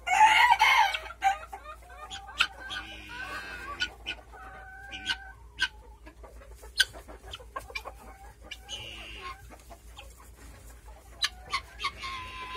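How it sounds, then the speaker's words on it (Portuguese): A bantam rooster crows repeatedly among clucking chickens at a farm of ornamental birds, loud and close, with sharp calls and cackles spread through the quiet. "Aqui em cima tá ainda nosso galo garnizé"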